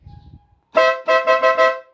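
A loud dual-contact horn fitted to a Yamaha NMAX motorcycle blares once, then rattles out three or four quick rhythmic honks, close and strong, after a moment of faint low rumble.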